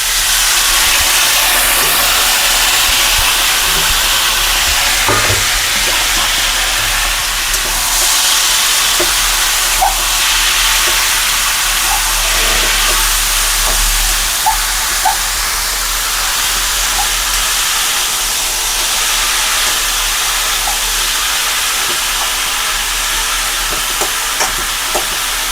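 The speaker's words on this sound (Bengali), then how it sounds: "এখন দিয়ে দেব আমি লাউ" Bottle gourd (lauki) hits a hot pan and sizzles in a steady, loud hiss that persists throughout, with faint clinks of utensils now and then.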